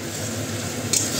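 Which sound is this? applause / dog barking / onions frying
onions frying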